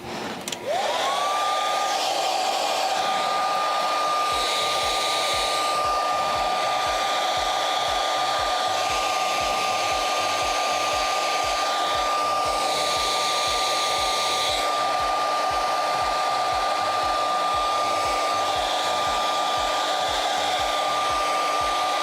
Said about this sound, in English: we're going to let it dry, aided by the hairdryer